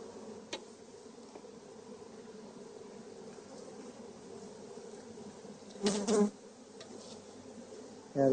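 A honeybee hive hums with a steady, close buzzing drone throughout, a few sharper bursts of louder buzzing rising near the end as bees stir at the front of the hive.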